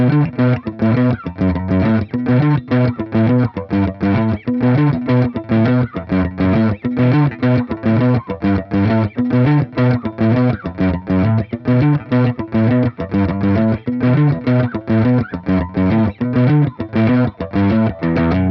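A distorted electric guitar plays a steady, chugging riff with sharp percussive pick attacks, loud and continuous with no voices.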